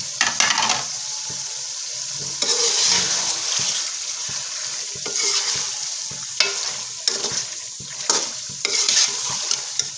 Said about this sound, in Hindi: ये 2 से 3 मिनट और भूनेंगे